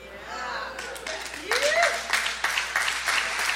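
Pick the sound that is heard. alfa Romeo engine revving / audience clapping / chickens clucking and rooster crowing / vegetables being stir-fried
audience clapping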